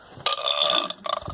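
A toy sound-effect button plays a hiccup, a short electronic tone in two quick bursts, loud and alone.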